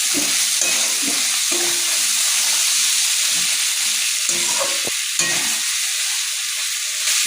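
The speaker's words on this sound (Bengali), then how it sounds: "আরও দু মিনিট তিন মিনিটের জন্য ঠিক এইভাবে কষিয়ে নিতে হবে" Soybean and egg curry masala sautéed in a pan, a steady broadband sizzle running throughout with repeated scraping strokes of a spoon stirring the thick mixture.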